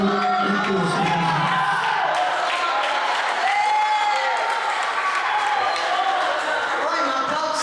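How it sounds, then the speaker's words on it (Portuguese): A church congregation applauds in a dense, steady wash of clapping that fills the whole stretch at even loudness, with a faint voice mixed in. "aplauda o Senhor com mais vontade"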